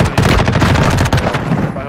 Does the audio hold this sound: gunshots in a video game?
yes